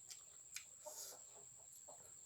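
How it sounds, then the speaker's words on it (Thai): Chickens cluck softly in short, scattered bursts, fairly distant, over a constant high-pitched electronic whine. No one speaks. "เสียงไก่นะพี่น้อง"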